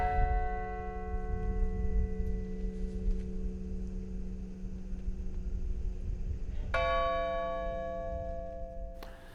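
Memorial bells ring at the Flight 93 site in a Pennsylvania field, sustained tolling tones with a fresh strike near the end, heard over a low rumbling background.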